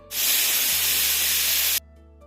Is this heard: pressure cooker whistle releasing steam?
yes